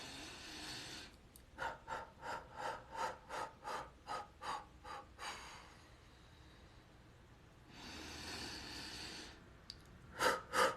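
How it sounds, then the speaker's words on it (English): A person does breathing exercises for the throat, with a run of about ten rhythmic, forceful breaths, then a longer exhale and a couple of sharp final breaths, close and unaccompanied. "So I want breathing exercises for your throat."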